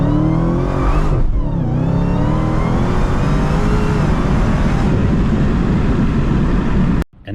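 Dodge SRT Demon 170 V8 held on launch control, roaring loud and close at high revs with a steady rising drone for about seven seconds before cutting off abruptly.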